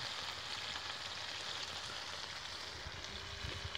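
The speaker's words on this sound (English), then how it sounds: "Look at that sizzling away." Steak frying over a camp stove while wild camping on the Howgill Fells in the Yorkshire Dales, giving a steady, close, continuous sizzle with faint crackles and no voices.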